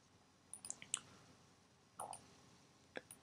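Computer mouse buttons clicking in short bursts, single and paired clicks spaced about a second apart, close and quiet in a silent room.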